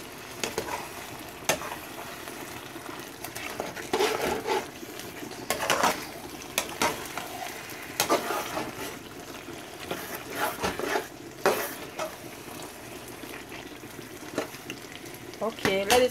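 Fried fish being stirred into eggplant in a pot: a low sizzle runs beneath repeated scraping and clattering strokes of a spoon against the pot, irregular and close, with occasional louder knocks.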